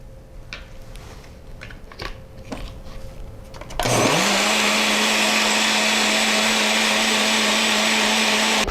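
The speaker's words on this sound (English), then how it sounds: "now you're going to place the produce into the blender and you are going to blend it for about 1 minute" A blender whirs loudly and continuously, blending produce for Ghanaian jollof rice stew, starting abruptly after a few seconds of quiet kitchen clatter and running steady at close range.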